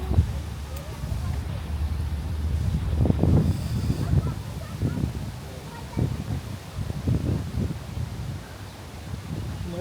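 Cold wind buffeting a microphone outdoors near a rollerblade skating track, with low rumbling gusts that swell and fade irregularly, loudest in the middle, alongside faint rustling and occasional background activity.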